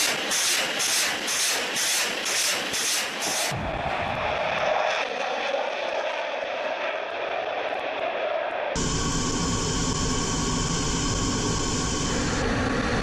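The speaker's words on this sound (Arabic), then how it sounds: "نشرت الوزارة مشاهد لأطقم طائرات SU-25 تشن غارات جوية صاروخية على العربات المدرعة" SU-25 military jets during rocket air strikes on armored vehicles: a loud, continuous roar of jet engine noise that shifts in character across several abrupt cuts, with no talking.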